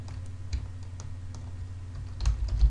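Computer keyboard typing while entering HTML and CSS code: scattered soft key clicks over a low steady hum, ending in a quick closer burst of keystrokes.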